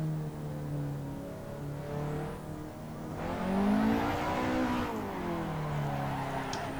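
Car engine in Assetto Corsa revving through a power-over drift, a steady mid-pitched drone that rises and swells in pitch midway, then holds high and loud, with tire-like whir on top and no talk.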